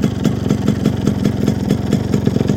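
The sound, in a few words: Yamaha RX-G motorcycle engine idling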